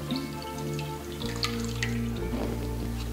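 Leftover water from soaked paper pulp for a papier-mâché vessel is poured into a catch bowl, making a close, continuous trickling and dripping splash that runs for about three seconds.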